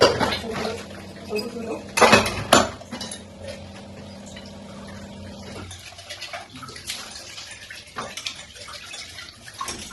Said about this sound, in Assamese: তেতিয়ালৈকে মই চাহখিনি উতলে মানে দুখনমান বাচনে ধুই লওঁ